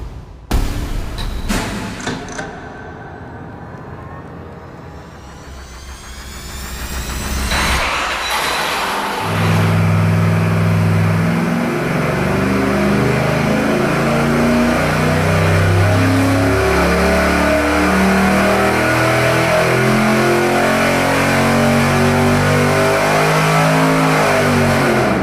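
A dyno-mounted engine fitted with cast exhaust manifolds rattles through a few starter turns, catches, and then revs hard and steadily for a long loud pull, close up with no talking.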